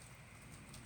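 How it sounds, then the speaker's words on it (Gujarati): Heavy rain pours down outside a gym, heard as a brief, faint, steady wash of falling water with no voices. "ફૂલ વરસાદ આવે છે, ફૂલ."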